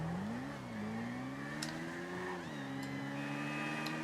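Car engine from GTA 5 Online droning steadily as the vehicle drives, pitch rising and dipping with throttle changes, with a few faint high blips over the constant hum.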